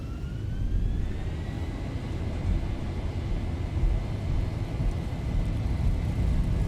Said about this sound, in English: Just lovely engine sounds in this aircraft.